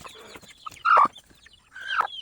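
A brooding hen settled on eggs lets out a few soft, close clucks and one brief louder call, with quiet gaps between them.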